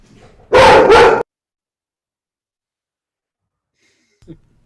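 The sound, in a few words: dog barking at someone at the door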